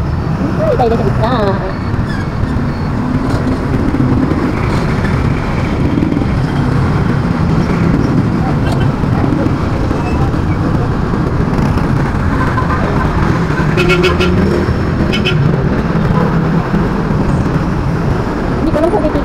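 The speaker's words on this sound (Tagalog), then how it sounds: "Ang agang traffic, grabe." Morning road traffic rumbles continuously around a moving vehicle, with steady engine and tyre noise, passing cars and a few brief horn-like tones, while a person talks quietly at times.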